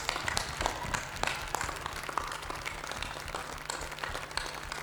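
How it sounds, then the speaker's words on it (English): A squash tournament audience applauds the players, a steady wash of many hands clapping at moderate distance, continuous throughout, with a low hum underneath. "So if I could please request you to just applaud this fantastic lot of players."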